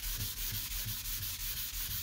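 Wet sanding of 2K primer along a car body line gives a loud, close, rhythmic rubbing swish, repeated strokes in steady back-and-forth cadence.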